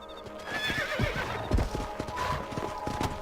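In the video game Red Dead Redemption, a horse whinnies near the start while hooves clip-clop in an uneven rhythm, moderately close against a soft ambient background.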